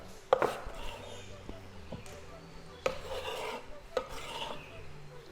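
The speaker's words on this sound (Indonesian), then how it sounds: "Kita cacah dikit, tapi jangan terlalu halus" Chicken being chopped on a board for burrito filling, a few sharp knife strikes spaced a second or so apart between softer scraping and rubbing, moderately close and without talk.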